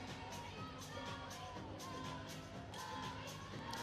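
The Illinois gymnastics team chants and cheers from the back of an arena during an NCAA regional bars routine, a distant, faint crowd roar with shrill whoops and rhythmic voices rising throughout.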